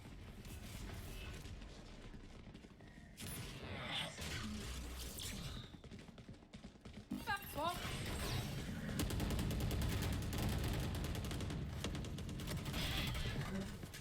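Sustained gunfire from a Valorant match in a college esports game, loud overlapping shots and bursts running continuously with game effects, including some whooshing sweeps midway.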